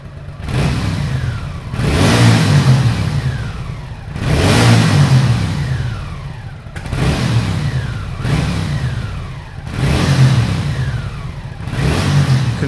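A BMW R80 cafe racer motorcycle engine revs again and again, rising and falling in repeated surges every couple of seconds, loud and close.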